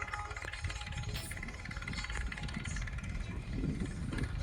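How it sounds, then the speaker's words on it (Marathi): A tractor engine runs steadily on a farm with rough murram soil, a continuous mid-pitched mechanical drone holding at an even level throughout, with a slight swell near the end. "हे बघा ट्रॅक्टर दिसलं का?"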